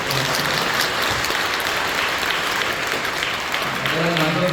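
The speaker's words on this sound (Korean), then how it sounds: "다시 한번 귀한 찬양 또 여러 섬김에 감사하며 박수 한번 해주세요" A church congregation at a Passion Week service claps for the praise team, a dense, loud wash of applause filling the room continuously throughout.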